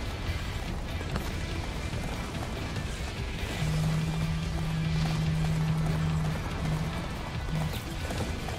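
Horse hooves clip-clop steadily in an action video game about capturing titans, a soft rhythmic trot with a brief whinny-like tone in the middle and no talk.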